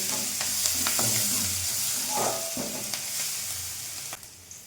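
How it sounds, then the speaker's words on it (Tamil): Ginger garlic paste frying in a pan with a soft continuous sizzle, broken by occasional scrapes and clinks of a spoon stirring close by, with no voices. "இஞ்சி பூண்டு பேஸ்ட்டில் வந்து விழுது விழுது"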